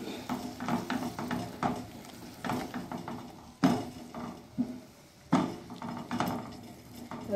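A spoon stirs tomato puree for rajma masala in a pan, making repeated scraping and knocking strokes against the metal in an uneven rhythm, close and moderately loud, with a soft sizzle underneath and no talking.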